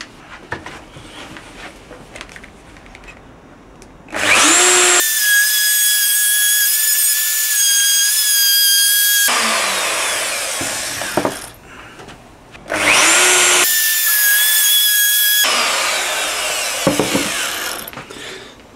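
A power drill bores holes in wood for a candle holder in two long loud bursts of high-pitched whine, with quieter handling and clamp noises between them and no talk.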